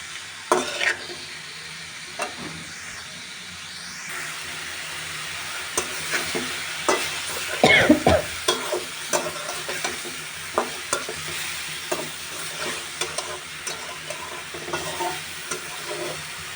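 Mixed vegetables with potato frying in a pan for a breakfast bhaji, stirred with repeated scraping knocks and clinks of a spoon over a constant sizzle, close and clear, nobody speaking.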